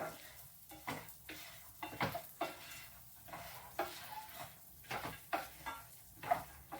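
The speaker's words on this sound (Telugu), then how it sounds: "మంచిగా ఇవన్నీ వేయించుకోవాలి" Curry leaves and drumstick leaves, with peanuts, are dry-roasted in a pan and stirred continuously, giving repeated rustling scrapes in an uneven rhythm, close and fairly soft, with a faint sizzle beneath.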